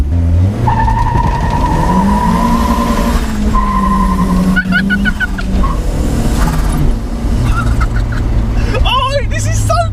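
Modified turbocharged Mk1 Mazda MX-5 sliding, its engine droning loud and steady while tires squeal in repeated chirps and longer screeches.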